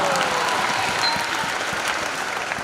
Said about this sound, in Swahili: Hebu ongeza makofi tena kwa ajili yake.